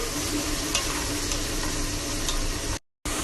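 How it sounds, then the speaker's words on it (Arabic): Onions fry with a steady, dense sizzle in a pot as they are stirred, with faint scraping along the bottom, close up and continuous before a brief cut to silence near the end. "نرجع الحين حق البصل، اقلبه لغاية ما يمسك عندي بقاع الماعون."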